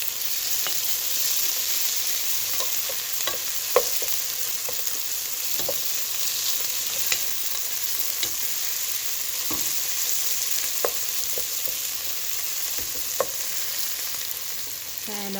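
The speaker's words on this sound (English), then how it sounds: "I'm going to go ahead and add my garlic, minced or grated" Minced garlic frying with browned onions in a pan for an egg masala curry, a steady close sizzle with scattered small pops and spatula scrapes throughout, no talking.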